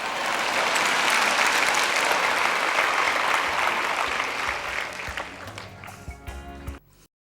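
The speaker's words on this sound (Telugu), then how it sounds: "మీరు చప్పట్లు కొట్టొచ్చు, కొట్టకపోయినా నిజం మాత్రం అదే." An audience at a Joyce Meyer sermon applauds. The clapping is dense and sustained for about six seconds, then thins out into scattered claps before it stops.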